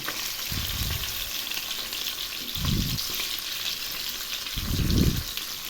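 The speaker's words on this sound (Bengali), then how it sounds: "মাছগুলো এক পাশ ভাজা হয়ে গেছে এখন আমি উল্টে দিচ্ছি" Puti fish frying in hot oil in a pan as they are turned over, a constant close sizzle broken by three low thumping bursts as the fish are flipped, with no voices.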